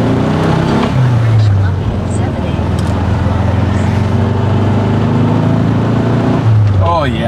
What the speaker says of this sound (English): this is actually a fun car to drive